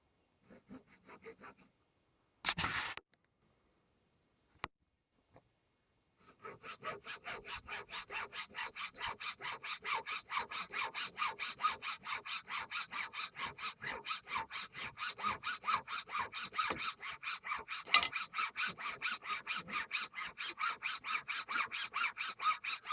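Hand sawing of wood while building a loom: a few isolated knocks, then a long run of steady, rhythmic back-and-forth saw strokes, close and fairly loud, with no talk.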